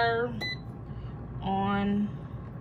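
A few short electronic beeps from an air fryer's control panel as it is set to cook meatloaf, with a brief tone near the start and a longer, sustained beep later, heard close and clear over background noise.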